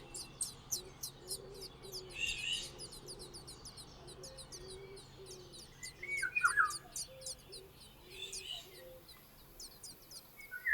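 A song thrush pair near its nest give repeated sharp warning calls, bright chirps and tweets in quick series over a quiet outdoor background, with a few louder calls close by.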